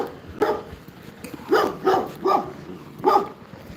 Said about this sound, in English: Oh, freaking dogs. I hate dogs.